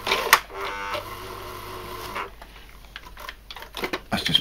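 A sewing machine working through tight material on a Gorka jacket modification, a strained mechanical whir that labors and stops, followed by faint ticks and handling noises close by.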